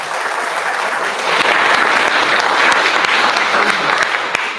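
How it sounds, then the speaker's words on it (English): A live audience at a talk on caregiving gives a loud, sustained round of applause: dense, even clapping from many hands that swells after a second and carries on steadily until the end. "let's give them a round of applause."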